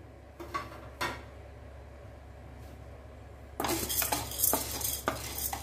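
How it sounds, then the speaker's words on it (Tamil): Chana dal dry-roasting in a pan for idli podi, first a few soft scrapes, then a louder run of rattling, clinking stirs against the metal over the last two seconds, close and with no talking. "நல்ல கடலப்பருப்பை செவக்க வறுத்தெடுத்துக்கலாம்"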